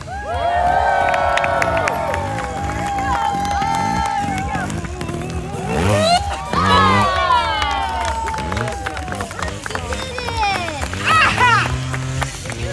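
A large outdoor crowd at the Forest Fall Fair 2024 cheers, whoops and shouts loudly and steadily, with a few voices rising above the roar.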